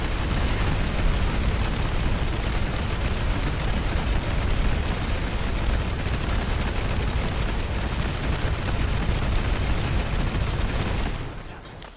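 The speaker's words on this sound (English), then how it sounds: "And this is what happens when you fire this gun." A modded custom legendary gun fires in Fallout 4 as a relentless, loud, continuous roar of shots and blasts for about eleven seconds, then cuts off abruptly.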